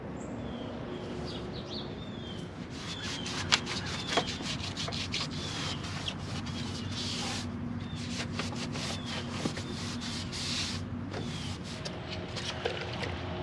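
Steady sanding of car body panels on a Chevrolet Monte Carlo SS G-Body, a continuous rough rubbing and scraping with rapid repeated strokes, close and fairly loud, with no talk.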